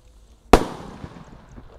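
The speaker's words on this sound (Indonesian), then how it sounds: "roket jumbonya warna merah" A red jumbo firework rocket goes off at dusk with one sharp, loud bang, followed by a fading crackling tail and a smaller pop a moment later.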